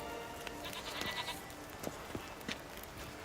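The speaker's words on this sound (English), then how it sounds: "I can get these goats." Goats bleating in the video game The Witcher 3: a faint, wavering bleat over a steady outdoor ambient bed, followed by a few soft thuds, with no voices.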